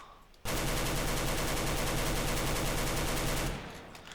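AK rifle firing a sustained fully automatic burst in the game Counter-Strike: Global Offensive, a rapid, loud, steady stream of shots lasting about three seconds before cutting off.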